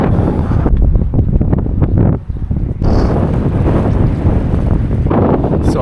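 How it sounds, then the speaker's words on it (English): Strong gusting wind buffets the microphone along a canal and river in Galway City, a loud roaring rumble that drops out briefly midway before surging back. "it is absolutely blustering here, and I hope the sound isn't impacted too negatively"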